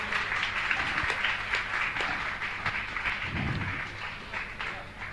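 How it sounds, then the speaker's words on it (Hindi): An audience at a Jain religious gathering claps in steady, moderately loud applause that continues throughout, with a voice briefly audible underneath. "तालियां आपकी बजाएं इनके सम्मान के लिए।"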